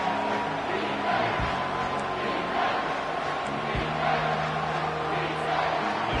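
Football stadium crowd at an Oregon vs Louisville game roaring after a big third-down play, a dense sustained wash of cheering and noise held steady at high level throughout, with brief louder thumps rising out of it.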